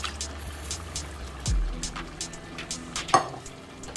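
Fish is stirred and broken apart into a Ghanaian beans stew in a pot, soft wet mixing and scraping strokes with a low thud and a sharp clink near the end, close up.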